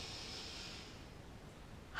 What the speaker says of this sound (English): One more, inhale.